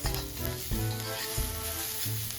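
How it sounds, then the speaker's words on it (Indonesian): Close, steady sizzling of onion, chili and tomato sautéing in a pan for orek tempe, with soft stirring scrapes and faint background music. "Tumis semua bahan sampai matang dan layu."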